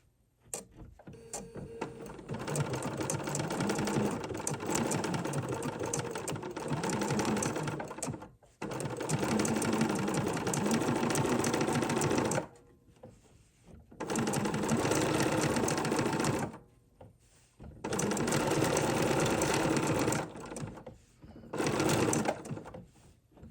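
A domestic sewing machine stitches steadily around a Dresden pillow in long continuous bursts, pausing briefly between runs as the fabric is pivoted, close and fairly loud with no talk over it.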